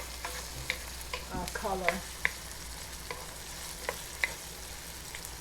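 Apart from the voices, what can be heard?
pork frying in pan with atchuete oil added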